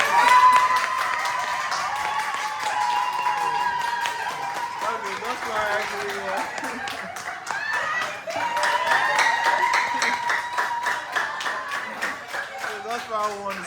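An audience at a food eating competition, where the first to finish 10 Eba wins 50,000 naira, claps for the winner in a steady patter of many hands, with voices talking and cheering over it.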